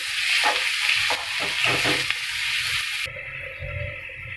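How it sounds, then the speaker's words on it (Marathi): Spice masala for egg curry frying in hot oil, close up, with a bright steady sizzle and a few scraping stirs, then the hiss suddenly dropping to a softer, quieter crackle near the end. "आता हा आपण भाजून घेऊया. जोपर्यंत त्याला तेल सुटत नाही तोपर्यंत."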